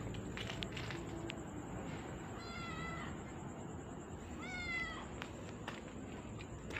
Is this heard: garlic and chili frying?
no